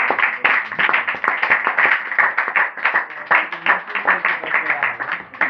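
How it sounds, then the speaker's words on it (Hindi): A church congregation at a Christian gathering bursts into loud, rhythmic clapping, dense overlapping claps continuing steadily for several seconds, with some voices mixed in. "एक बार जोरदार तालियां"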